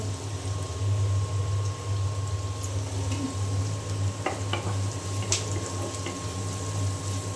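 Onion fries in a pan, a soft steady sizzle under a constant low hum, with a few faint clicks of a utensil midway.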